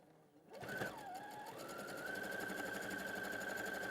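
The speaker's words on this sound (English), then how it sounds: "I'm going to sew that one down." A sewing machine runs up to speed and hums along steadily while stitching a quarter-inch seam, a close, even mechanical whirr with a rapid needle rhythm and no voices.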